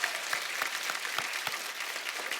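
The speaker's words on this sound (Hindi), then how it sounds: "एक बार जोरदार तालियां हमारी आर्मी के लिए।" Studio audience of a TV comedy show applauding, dense, continuous clapping from a crowd heard close and loud, with no talk over it.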